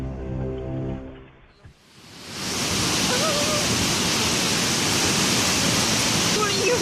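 A waterfall in India roars fiercely, a loud, steady broadband rush of churning water that swells in after a brief stretch of music and then holds at full strength.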